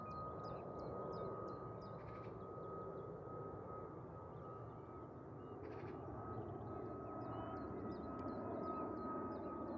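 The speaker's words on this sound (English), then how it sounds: "just as this aircraft clears the airspace above the airfield" Aircraft departing Manchester Airport and banking right after takeoff, a steady distant engine roar with a faint tonal whine, while crows caw repeatedly in the background.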